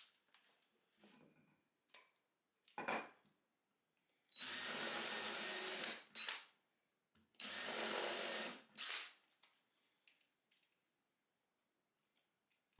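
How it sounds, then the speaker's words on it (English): Countersink drill bit fitted with a depth-stop collar boring into wood under a power drill, two loud sustained whirring bursts of about two seconds each, with quieter tool handling clicks and taps before and after. "Next is a countersink drill bit with a stopper."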